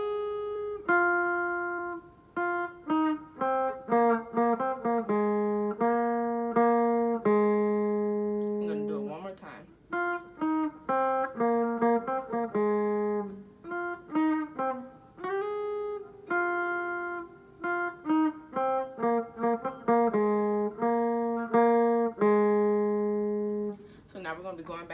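Guitar picking the riff of a song, clean repeated notes with sliding pitch changes in a steady rhythm, close and fairly quiet, played alone.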